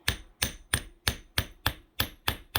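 A hammer strikes wire to flatten it, giving eight evenly spaced, sharp metallic taps at a steady rhythm, close and clear with no talk.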